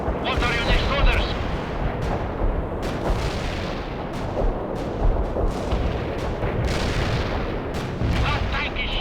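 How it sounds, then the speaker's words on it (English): Tank cannon fire and rumbling battle noise in the video game World in Conflict, with repeated booming shots over a dense, loud wash of combat, and radio-style voices speaking beneath it. "That tank is shooting at us."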